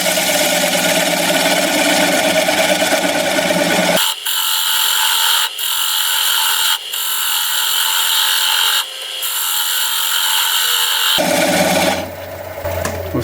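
A lathe turns a large maple burl bowl at about 530 RPM while a 1/2 inch bowl gouge cuts away the tenon, giving a loud, steady, close whirring grind with a few brief dips and a change of tone near the end.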